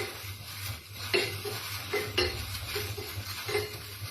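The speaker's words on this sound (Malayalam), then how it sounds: "പച്ചമുളകൊന്ന് ചെറുതായിട്ട് മൂപ്പിച്ചെടുക്കാം." Green chillies fry lightly in oil in a pan as a utensil stirs them. It gives repeated metallic scrapes and clinks over a faint sizzle, close up.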